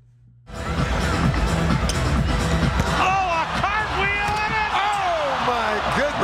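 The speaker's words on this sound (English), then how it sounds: "I've never heard a crowd cheer harder over a miss" A packed arena crowd at a slam dunk contest roars and cheers loudly and continuously after a missed dunk, with excited commentary voices and music running beneath the noise.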